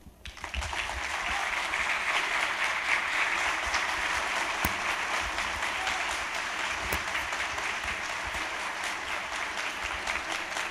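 Audience at a talk applauds loudly and steadily in honor of a speaker, Dr. Jorge Pesqueira Leal, a sustained wash of many hands clapping that carries on without letup for the full length, with no speech over it.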